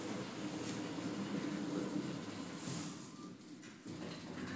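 A ThyssenKrupp glass elevator in Park City, Utah starts up, giving a steady low mechanical hum and rumble with a faint hiss and a soft clunk near the end.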